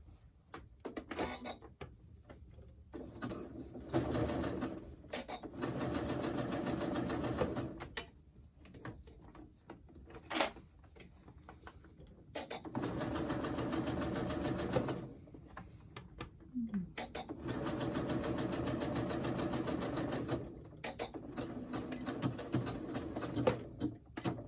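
A sewing machine runs in long steady bursts with short pauses between them, stitching the back of a scalloped neckline on a knit top. The machine drone is close and moderately loud, with no talking over it.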